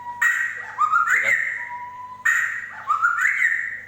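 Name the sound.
a bird singing and chirping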